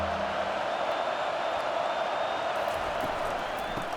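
Steady, loud roar of a stadium crowd cheering a defense on third down in a college football video game, USF at Alabama, sustained and dense throughout with a faint whistle-like tone riding on top.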